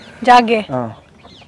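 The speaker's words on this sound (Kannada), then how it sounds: "ಆ ಪಂದ್ಯಗಳಿಗೆಲ್ಲ ಬಳಸ್ತಾರಲ್ಲ ಮೇಡಮ್, ಇದು ಹುಂಜ" A fighting-breed rooster lets out two short, loud, throaty clucks at close range, the first higher and stronger, followed by a brief quiet tail.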